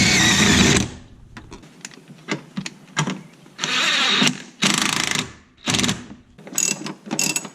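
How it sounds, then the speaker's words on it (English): An impact driver fastens a rear shock bolt on a 2010 Mazda 3. It fires loud, close ratcheting bursts of about a second each, separated by brief pauses. "I'll go ahead and use this impact driver to get it a little bit of the way"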